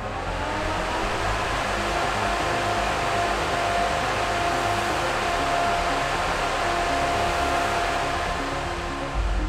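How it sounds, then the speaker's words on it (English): Cooling fans of an XGIMI Horizon 20 Max projector run at maximum speed during a firmware update, a loud, steady whooshing whir with a faint tonal hum, close and unbroken, with no voices. "During the DMD update, the cooling fans ran at maximum speed,"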